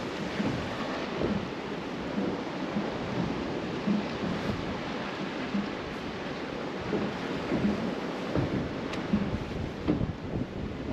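Heavy rain pours down outdoors during a thunderstorm at a fishing spot, a dense, steady hiss with wind buffeting the microphone, loud and close for the whole stretch with no voices.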